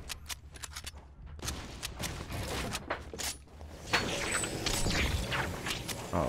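Weapons being reloaded in the Fortnite video game, with rapid mechanical clicks and clacks mixed with bursts of gunfire, dense and fairly loud throughout, with no talking.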